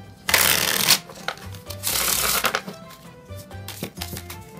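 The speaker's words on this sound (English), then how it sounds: "and you shuffle." Cards riffled together in two long rushing bursts, followed by a few softer shuffling taps, close and clear.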